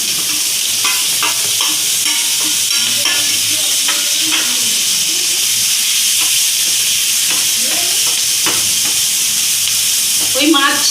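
Chopped onion fries in fish oil and a little ghee for a fish korma, giving a loud, continuous close-up sizzle with scattered scrapes and clicks of stirring; a voice talks faintly underneath.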